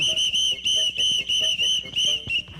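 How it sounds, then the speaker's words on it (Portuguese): A sharp, high-pitched whistle is blown in repeated short blasts in a cartoon-style comedy scene set in a town square, with about six loud, close toots in an uneven rhythm. "Me dá esse apito aqui, eu vou fazer você engolir esse apito!"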